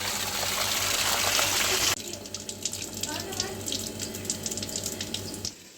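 Tap water runs loudly into a sink for about two seconds, then chicken meat is rinsed and handled in the water with sloshing and splashing, close by until it stops.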